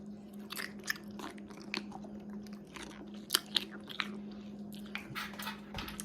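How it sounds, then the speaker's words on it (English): Several crisp, wet crunches from chewing a cubed refrigerator dill pickle close to the microphone, irregular bites and squishy chomps over a quiet low hum. "Very crunchy."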